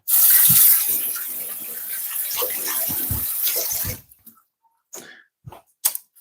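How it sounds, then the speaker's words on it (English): A kitchen tap runs loud and close for about four seconds as marinated chicken is rinsed off a hand, then cuts off, leaving a few scattered drips and small clatters. "I'm just gonna wash my hand off quickly on this side."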